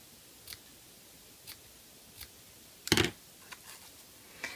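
Scissors snip small slits into the ends of a craft scarf, with a few soft, spaced cuts and one louder, sharper snip over quiet room hiss.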